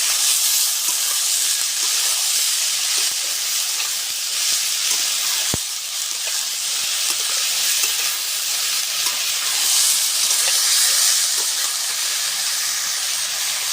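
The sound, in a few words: wood fire burning in a clay stove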